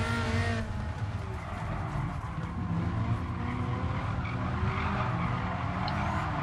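A Dodge Viper race car in Gran Turismo Sport screeches through a long tire skid, a continuous loud squeal over a roaring engine that holds steady with no break throughout.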